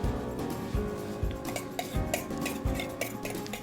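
A utensil stirs besan-jowar thalipeeth dough with onion, tomato and coriander in a bowl, giving repeated close scraping and clinking strokes in an uneven rhythm.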